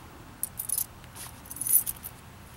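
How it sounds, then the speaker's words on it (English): Keys jangle lightly as they are looped through a cloth tourniquet, a few faint, scattered metallic clinks close by with no talking. "Take your keys, loop it through."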